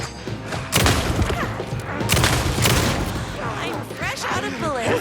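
Bursts of gunfire and heavy impacts erupt in Alan Wake 2's Night Springs episode, with several loud, dense volleys and crashes spread across the few seconds, mixed with voices and sweeping effects.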